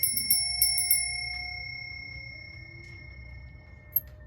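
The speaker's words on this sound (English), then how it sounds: "Ring that bell one more" A small bell rings several times in quick succession, bright and clear, then its tone lingers and fades, with one faint final ding near the end.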